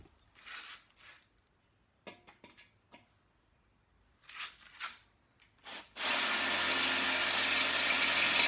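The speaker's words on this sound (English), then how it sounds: "One thing about drilling through this fender, can't hurt it." Scraping and rubbing noises come in short bursts. A power drill then starts up and drills steadily through a dented metal fender on a Norton Commando 750 motorcycle, loud and close. No one talks.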